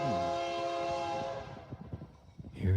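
A Norfolk Southern train approaches with a loud, sustained horn blast that fades into rhythmic rumbling and clacking of wheels on rail.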